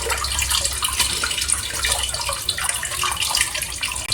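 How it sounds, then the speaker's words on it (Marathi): Eggplants being washed in water so their peel comes away, with a steady splashing, running-water wash from start to finish and no voices. "त्याच्यात पाणी टाकल्यानंतर पाणी पूर्ण इथे बघा पूर्णपणे असं त्याचं सालं निघतात पाणी टाकल्यावर आणि स्वच्छ असं धुवून घ्यायचं"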